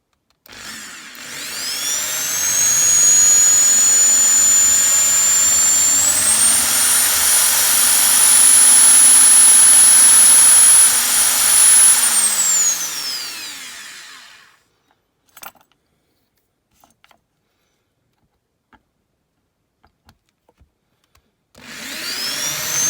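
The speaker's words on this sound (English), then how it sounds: "Drill the rivet posts out on the Aston" A loud, steady high-pitched power-tool whine, a drill boring out rivet posts on a Matchbox Lesney No.19 Aston Martin DBR5 diecast model, runs about twelve seconds, rising in pitch midway, then cuts off to near silence with small clicks before restarting.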